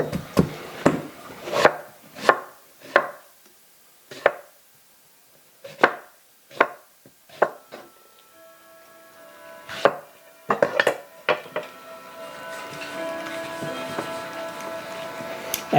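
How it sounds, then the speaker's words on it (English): A melon slicer cuts through a seeded melon in a run of about a dozen crisp, evenly spaced chopping strokes, close and fairly loud, with a faint hum rising near the end. "I took the seeds out of this, and I have my handy dandy melon slicer"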